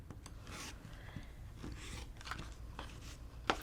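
Rotary or scissor cutting through a quilt fabric strip, a soft rasping cut with scraping and rubbing of fabric on a mat, close and fairly quiet, ending in a brief sharp click.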